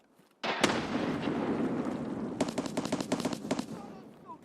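An explosion goes off with a sudden loud blast in a video game, followed by crackling and a rapid string of sharp pops.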